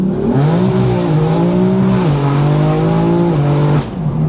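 A BMW M4 accelerates hard on a dry road, its engine roaring loud and close with a strong rising tone that holds steady and briefly dips near the end.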